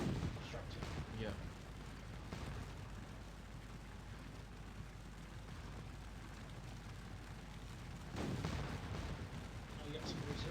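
Artillery fire in the strategy game Scourge of War, continuous dense booming and rumbling across the whole stretch, louder bursts near the start and again toward the end, with voices talking faintly underneath.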